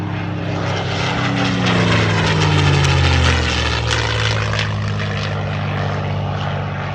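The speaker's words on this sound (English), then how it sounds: "come back around for one final pass in that beautiful P-51 Mustang" A P-51 Mustang propeller fighter makes its final pass at an air show, with a loud, steady engine drone whose pitch sweeps downward as the plane goes by.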